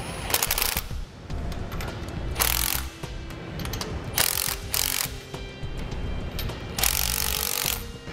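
A hand ratchet tightens the U-bolts on a Dexter trailer idler axle beam, giving bursts of rapid close clicking with short pauses between strokes.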